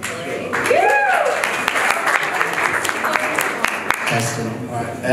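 An audience at a Nambour Yandina United club gathering applauds in a sustained, full round of clapping, with a voice talking over the start and sharp clicks scattered through.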